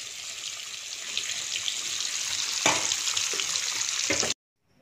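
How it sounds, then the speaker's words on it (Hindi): Food frying in a pan in a village home kitchen, a loud, steady close sizzle with occasional crackles that stops abruptly near the end. "तो बस अभी थोड़ी देर तक इसको फ्राई करेंगे, ये फ्राई हो रही है"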